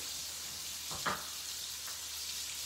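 Skin-on salmon pieces fry in a pan with a steady, soft sizzle, broken by a brief louder crackle and scrape as the fish is moved, with no talk.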